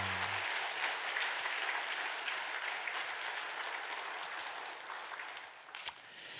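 Sustained applause from a church congregation during a Sunday worship service at Gyulhyeon Church, a dense wash of clapping filling the room steadily for several seconds before tapering slightly near the end.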